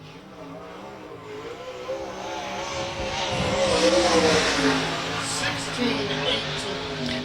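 Sprint car, a Maxim chassis with a Gertie engine, racing on the Ionia Raceway Park track, its engine droning and rising in pitch as it passes, under an announcer talking over the roar.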